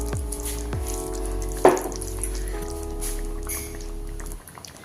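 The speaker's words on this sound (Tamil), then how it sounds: "இப்போ தேங்காய் ஊற்றி நல்லா கொதிச்சிருச்சுப்பா" Coconut egg gravy simmering in a pan, a soft continuous bubbling sizzle with a few sharp knocks and a brief crackling splash, steady and close.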